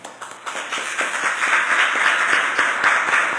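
Applause fills a council chamber during a plenary session, many hands clapping in a dense, steady patter that swells after a few scattered first claps and holds at moderate loudness.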